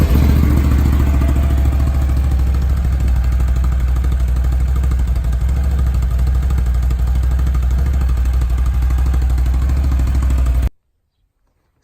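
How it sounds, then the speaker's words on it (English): A 2018 Can-Am Renegade XXC 1000 ATV with its stock exhaust runs at a steady idle, a loud, close, low throbbing engine note that cuts off abruptly near the end. "2018 Renegade XXC 1000 stock exhaust."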